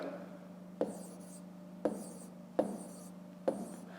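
Pen strokes writing numbers by hand while working a long division problem, four short scratchy bursts spaced about a second apart, close and faint over a steady low hum.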